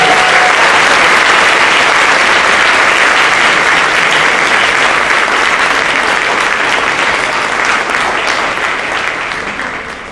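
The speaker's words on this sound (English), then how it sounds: "please give a round of applause to the newly inducted members of the National Latin Honor Society" Sustained, loud applause from an audience at a school world language awards night, greeting newly inducted National Latin Honor Society members; dense clapping fills the whole stretch and tapers slightly toward the end.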